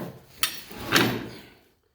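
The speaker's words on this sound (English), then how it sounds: "the snap fast pins will drop right in" Metal snap fast pins drop into the mounting bolts of a Case 446 mower deck, giving a sharp metallic clack and then a duller knock that fade out, close and with no talk.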